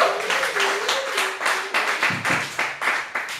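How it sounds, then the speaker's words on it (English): An audience at a comedy night at Killer's Tacos claps for a comedian, a dense, steady round of hand claps that swells in pulses and holds for the whole stretch, fairly close and with no talking over it. "Everyone give a warm round of applause for a very funny guy"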